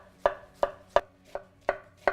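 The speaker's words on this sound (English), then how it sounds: "Cut the cabbage in half and then cut it in quarters to remove the core." A knife chops through cabbage on a cutting board, six sharp evenly spaced thuds close by with quiet gaps between, no voices.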